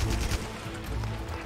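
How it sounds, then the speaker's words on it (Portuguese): Gunfire from a ranged weapon in the video game Monster Hunter Rise, a loud burst of shots in rapid succession at the start, followed by steady rumbling game sound and further shot-like pulses. "olha a curva que meu tiro faz"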